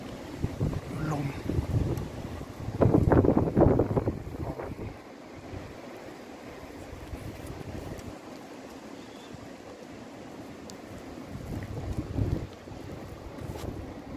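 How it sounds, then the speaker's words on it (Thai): Strong wind during a snowstorm roars and buffets the microphone, gusting loudly early on before easing to a steady rush with another swell near the end, while someone speaks briefly. "เห็นว่าลมแรงมากนะยอดไม้นะเห็นชัดๆนะครับ"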